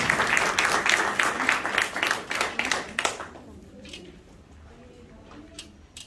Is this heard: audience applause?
yes